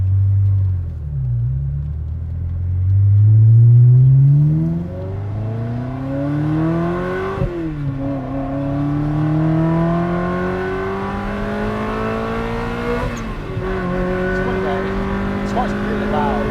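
A Ferrari 360 manual engine roars and climbs through the revs, dropping briefly at gear shifts before pulling up again, loud and close from inside the car.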